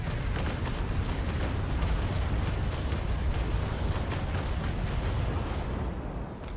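A warship's cannon broadside fires in a Naval Action sea battle, a dense, continuous rumble of overlapping booms that stays loud throughout and fades slightly at the end.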